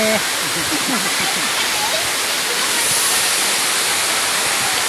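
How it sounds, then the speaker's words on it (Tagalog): A small waterfall at a factory site in San Jose, Libona, Bukidnon pours in a steady, dense rush of falling water, loud and close throughout, with faint voices briefly audible at the start. "Water falls din sa pabrika San Jose, Libuna, Bukidnon."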